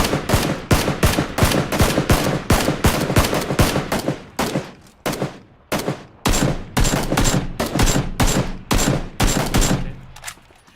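Sustained gunfire in PUBG, loud and close, with rapid bursts of sharp shots broken by short pauses and fading to a tail at the end.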